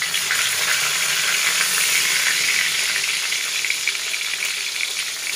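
Mackerel sizzles steadily in a frying pan, a dense continuous crackle of hot oil at close range with no talking over it.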